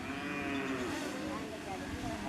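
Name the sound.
cow mooing at animal shelter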